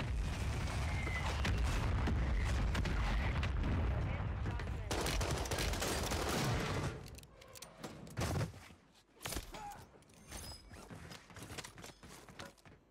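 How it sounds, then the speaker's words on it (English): Explosions and gunfire in the Call of Duty Warzone video game, a dense stretch of loud, rumbling blasts and rattling shots lasting several seconds, then sparser, quieter scattered impacts. "I got two mortars going off."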